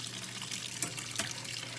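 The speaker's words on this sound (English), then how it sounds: "So now I'm gonna thoroughly kind of rinse my knife" Steady running tap water pours over a knife being rinsed in a sink after cutting beef, a soft continuous flow with a couple of brief splashes.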